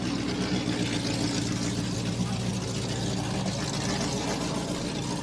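A vintage race car engine runs at the 2021 American Speed Festival at M1 Concourse, a steady, loud mechanical drone with a rumbling low end and a faint voice beneath it.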